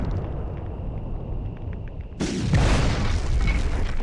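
A grenade blast in the 1999 video game Medal of Honor hits suddenly after a quieter stretch, a loud booming explosion whose rumble and debris roll on to the end, with no voices.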